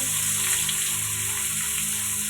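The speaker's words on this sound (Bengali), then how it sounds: "এবার কড়াইয়ে দিয়ে দিয়েছি 5 ফোড়ন, বড়ি" Panch phoron spice mix and bori lentil dumplings fry in a hot wok, giving a steady, close, dense sizzle that holds evenly throughout with no talking.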